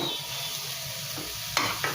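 Tomato and finely chopped coriander sizzling in a hot tempering for chicken curry, a close, steady frying crackle with stirring, punctuated near the end by two sharp utensil knocks against the pan.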